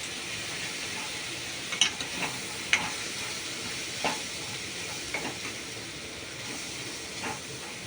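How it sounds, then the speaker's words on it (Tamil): Mushroom masala with chili powder and turmeric sautés in a pan, a quiet steady sizzling hiss with occasional soft scrapes and taps of a stirring spoon. "அண்ட் மஞ்சள் தூள் போட்டுட்டு அதையும் போட்டு வதக்குங்க."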